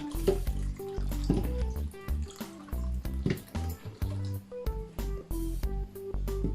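Water is poured off washed sand, dripping and trickling in uneven splashes and gurgles, close and moderately loud, with no voices.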